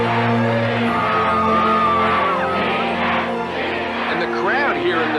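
Stadium crowd at an NFL game chanting in unison for a field goal kicker, a dense, loud roar of many voices with rhythmic shouted chants and whoops rising over the steady crowd noise throughout.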